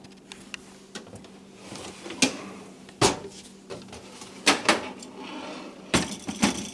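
A drawer in a basement full of computer parts and fans is opened and shut, giving several sharp knocks and rattling slides at irregular intervals at close range, with no speech.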